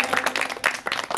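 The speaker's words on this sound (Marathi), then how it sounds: "त्यांच्यासाठी सुद्धा जोरदार टाळ्या द्या" A brief burst of audience applause for teachers on stage at a school function, with a few quick swells of clapping that fade in and out over a second.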